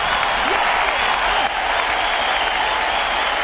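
A crowd applauds at a live tech show, steady dense hand clapping filling the whole stretch at close, even loudness with no talk over it.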